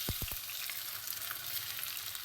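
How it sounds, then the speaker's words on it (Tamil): About 300 grams of finely chopped onions fry as a tempering for mutton salna, with a dense, steady sizzle close up and a few quick knocks at the start, and no talking. "இப்போ நம்ம மட்டன் சால்னா தாளிச்சிக்கலாம்"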